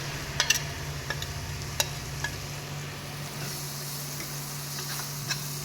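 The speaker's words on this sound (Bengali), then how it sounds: "কেটে রাখা পেঁয়াজগুলো এবার বাটারের মধ্যে আমি দিয়ে দিচ্ছি" Chopped onions frying in butter in a pan, a steady soft sizzle with a low hum underneath and a few sharp clicks of stirring near the start, no voices.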